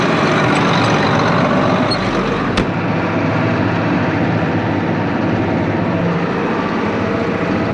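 A 4960 tractor engine runs steadily on the drive to a field, a loud, constant low rumble with a brief clank partway through and no talk.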